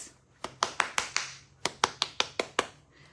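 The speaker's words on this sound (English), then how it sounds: "So you can literally clap your hair." Hands clap curly hair coated with styling gel, about eleven crisp close claps in two quick rhythmic runs separated by a short pause, loud against a quiet room.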